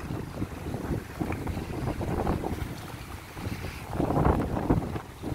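Strong wind buffets the microphone at Keenjhar Lake, with a boat out on the water; a steady rushing roar with gusty surges, loudest near the end, and no one talking.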